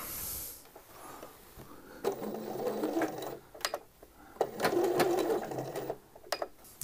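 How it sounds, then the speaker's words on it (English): A sewing machine runs in two long stretches of stitching around the curved top of a men's shirt sleeve, its steady whirr broken by short pauses and small clicks between runs, close and alone. "we need to sew a line of stitching all the way around the sleeve top there"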